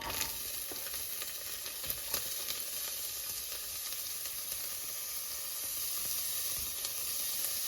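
Chopped onions sizzle in hot oil with a little salt added, a continuous bright hiss with a few faint ticks and pops, steady and close.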